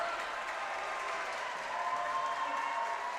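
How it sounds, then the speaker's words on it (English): A girls basketball crowd in a high school gym cheers and applauds during a close game, a steady, distant roar of voices and clapping with no single voice standing out. "the Metamora crowd getting loud"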